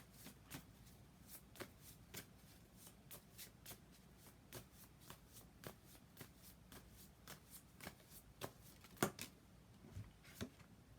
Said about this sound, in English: I'm going to go ahead and pull maybe just 1 or 2 more cards